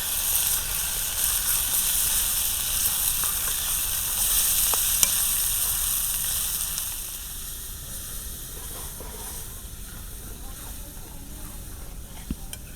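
Spice masala of Kashmiri red chili, garam masala and hand-crushed kasuri methi frying in oil and being stirred in a pan on a village clay stove. A steady close sizzle with faint scraping runs throughout and eases slightly partway through.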